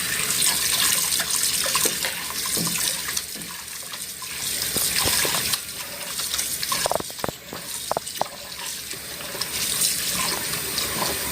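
Running tap water splashing steadily over seitan dough being rinsed in a sink, with brief squelching and handling sounds midway, continuous and close.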